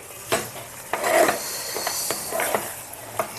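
Fish pieces frying in oil with a light sizzle, broken by sharp scrapes and clatters as a utensil turns the pieces over in the pan.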